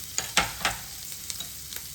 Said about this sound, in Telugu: గార్లిక్ ఫ్రై చేసుకుందాము.